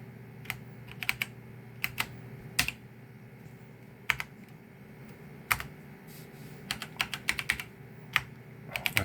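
A password being typed on a computer keyboard, close and clear: irregular bursts of sharp key clicks separated by short pauses, with a faint steady hum underneath and no talk.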